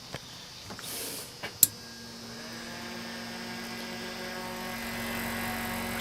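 An electric fan runs on a cheap power inverter, giving a faint, steady electrical hum with a thin tonal whine that settles in after a few soft clicks and continues evenly.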